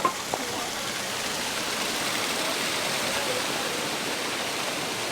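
Waterfalls rushing in a desert slot canyon near Tecopa, a dense, steady roar of falling water that fills the space evenly, loud and unbroken, with a couple of faint knocks at the start.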